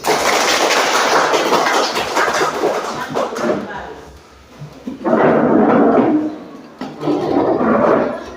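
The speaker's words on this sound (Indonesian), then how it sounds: "Kita tepuk tangan dulu." A classroom group of schoolchildren claps together in two loud, sustained bursts of rapid clapping, preceded by talk and movement.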